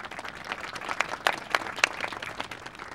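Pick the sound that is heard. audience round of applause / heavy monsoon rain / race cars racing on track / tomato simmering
audience round of applause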